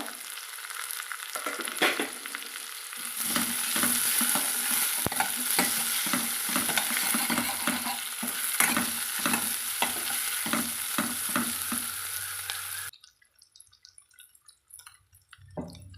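Ginger-garlic paste and tomatoes sautéing in a pan for hotel-style salna, a loud close sizzle broken by rhythmic stirring scrapes and drips, ending abruptly with a few quiet clinks after.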